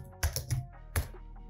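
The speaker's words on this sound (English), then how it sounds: "Now let's start typing" Keys clatter on a computer keyboard while someone codes a search bar in JavaScript: a few quick, close, crisp taps with short gaps, heard alone in a quiet room.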